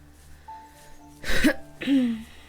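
A man clears his throat close to the microphone, two short rasping bursts a moment apart, with faint game music playing softly behind.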